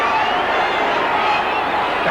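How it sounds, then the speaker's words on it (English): A rugby league crowd at a Widnes versus Hull match roars steadily in a dense, unbroken wall of noise from a large stadium, with no clear pauses. "The crowd now roaring, trying to get behind this Widnes side."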